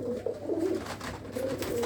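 Red Cheena pigeons of an old pure line coo in a low, throaty, rolling murmur, several overlapping calls close by with no talking.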